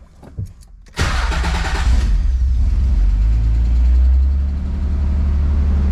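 A Nissan 300ZX engine with a newly installed exhaust gasket cranks and catches at about one second, revs briefly, then settles into a steady, close, loud idle with a low exhaust rumble and no rattle.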